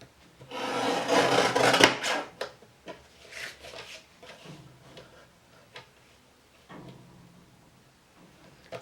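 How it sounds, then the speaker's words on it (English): Card stock being trimmed to the size of an embossing folder, a close, loud rasping cut lasting a couple of seconds, followed by softer scraping and sliding sounds that fade out. "So maybe I'll just cut it down to the size of the actual embossing folder."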